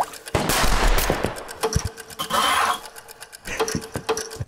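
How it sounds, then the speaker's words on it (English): Bursts of rapid gunfire and single loud shots, sharp and close, separated by brief pauses. "it just automatically picked a whole bunch of gunshot sounds that I already chose earlier"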